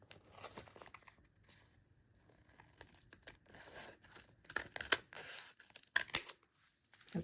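Scissors cut paper down to size for a junk journal, with soft, irregular snips and crinkling of the paper, faint and close, growing busier toward the end, with no talking.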